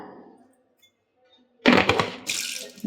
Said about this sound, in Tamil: தண்ணி ஊற்றுற பாருங்க.